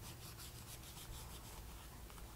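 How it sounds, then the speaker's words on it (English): A Scotch-Brite pad rubbing a pneumatic drawbar part of a Tormach machine during seal replacement, giving a faint, steady back-and-forth scrubbing in quick repeated strokes, close up and without talk. "Easily, some gentle Scotch-Brite happens to fit in there well."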